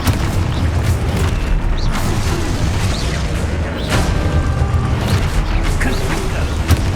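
Confringo explosion spells going off during combat in the video game Hogwarts Legacy: dense, loud booms and bursting blasts over a continuous rumbling wash of battle noise.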